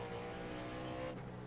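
A race car in the iRacing video game at North Wilkesboro, a steady loud engine drone with faint tire noise as the car slides through a turn, close and continuous for a brief moment.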